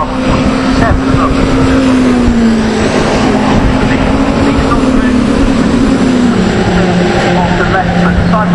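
Caterham Seven 310R race cars at Castle Combe circuit roar past in a loud, continuous engine drone with shifting pitch, and a commentator talks over the noise throughout.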